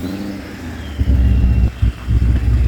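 Engine of a 2023 Aston Martin Vantage, one of 333 built, catching and settling into a loud, close idle with two sharp revs rising above the steady rumble; no one speaks.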